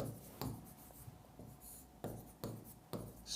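Chalk or marker writing on a board in a classroom lesson, heard as a series of short scratchy strokes and taps with pauses between them, close but soft, with no talking.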